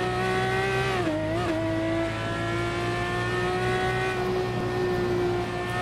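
In a racing video game, a race car's engine holds a loud, steady high-pitched drone, dips briefly as it shifts, then climbs again under full throttle, close and continuous with no talking.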